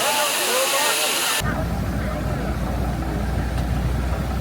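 A steam engine at the Netley Marsh steam fair lets off a loud broadband hiss that stops abruptly, leaving a low engine rumble and a busy outdoor fair background with voices.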